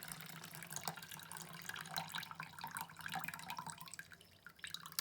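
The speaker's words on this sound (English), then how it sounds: "Pour off the extra gross water that's on top." Water with fermented tomato seeds is poured off the top of a container, a quiet trickling and splashing stream with small drips, soft and close, with no talk.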